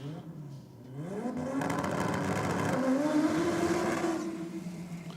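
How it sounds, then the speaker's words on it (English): A nitrous-assisted, all-wheel-drive Honda Civic from B2R Motorsports launches down a drag strip, its engine revving and climbing loudly through the gears, a sustained close roar with no talk. "the B2R Motorsports nitrous assisted Civic comes out now, all-wheel drive"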